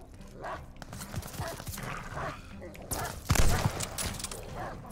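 Attacking dogs in the video game Call of Duty Vanguard snarl and bark amid busy game noise and thudding footfalls, with a player talking over the fray.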